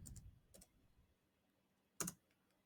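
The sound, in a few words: typing on a computer keyboard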